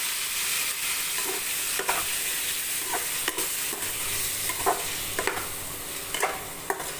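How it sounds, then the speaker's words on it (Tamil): Tomatoes and onions sauté in a pan with a constant hiss of frying, broken by repeated scraping and tapping strokes of a spatula as they are stirred. "இப்போ வந்து தக்காளி ரெண்டு தக்காளி வதக்கிருக்கோம் அதையும் போட்டு வதக்கிக்கலாம்"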